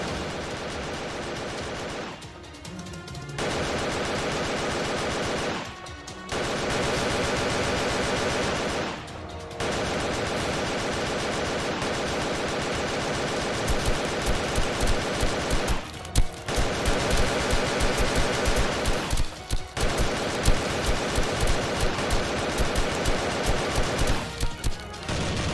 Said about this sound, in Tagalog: pinaulanan na ng bala ang mga commandos mula sa kubo number 1